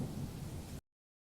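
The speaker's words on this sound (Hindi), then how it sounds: "बाहर बहुत तेज बारिश हो रही है।" Heavy rain and thunder for a Hindi cartoon story form a dense, loud roaring wash that stops abruptly after under a second, leaving silence.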